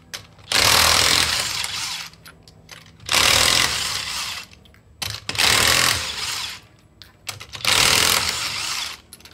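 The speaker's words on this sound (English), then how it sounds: "always like to get the wheel locks off first" Impact wrench or power tool removing wheel locks from a 2017 Ram 1500 pickup, four loud bursts of roughly one to one and a half seconds each, separated by short pauses, close to the microphone with no talking.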